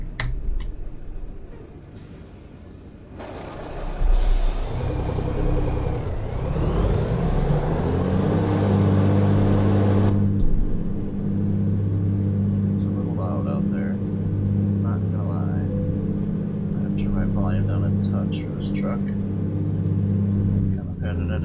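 An owner-operator's semi truck backs into a spot with a small trailer, its diesel engine rumbling low and steady throughout, with a sharp hiss of released air brakes near the start, while people talk.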